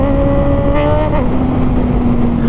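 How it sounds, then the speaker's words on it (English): A Tesla car speeds past nearby, its steady hum loud and continuous with a brief pitch drop as it goes by. "Oh! Fast Tesla."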